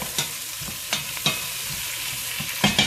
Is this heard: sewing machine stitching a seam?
no